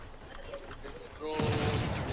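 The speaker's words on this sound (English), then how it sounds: "We need to line up the cannons and just shoot this fusion build." In the Crossout vehicle combat game, a cannon fires a heavy boom during a clan war match, the blast swelling loud and sustained after a stretch of quieter battle noise and players talking.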